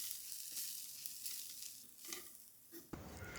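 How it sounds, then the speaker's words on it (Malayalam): Ground spices including garam masala, fennel powder and turmeric roast in a pan, giving a soft sizzle broken by scraping stirs of a spoon, close and fairly quiet. "മഞ്ഞൾപ്പൊടി ഇതെല്ലാം പാനിലേക്ക് ഇട്ട് പൊടികൾ മൂപ്പിച്ചെടുക്കണം"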